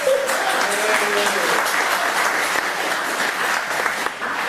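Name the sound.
applause for the newly elected MPP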